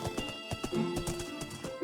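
A horse's hooves clop in a quick, uneven patter, with a short whinny rising partway through, fairly close and with no voices.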